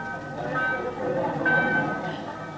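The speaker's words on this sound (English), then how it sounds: "Train leaving on track" A passenger train pulls out of a station, giving a short, loud mechanical rumble with a ringing, tonal hum layered over it, and voices are mixed in.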